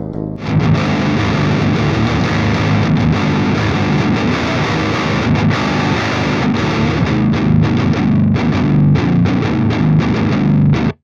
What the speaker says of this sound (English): It is just one instance of the plugin on one DI guitar track.